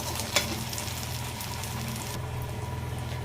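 Red bajji chillies with a little salt fry in a pan, giving a soft, steady sizzle with faint crackles close by and no voices.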